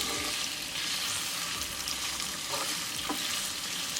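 Raw shrimp with garlic fry in a pan over medium heat for a creamy red pasta, a close, continuous crackling sizzle with occasional soft stirring scrapes.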